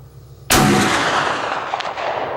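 A Winchester 1876 black powder cartridge rifle fires one loud, close shot whose sharp crack gives way to a long rolling boom and echo fading over two seconds, with no voices.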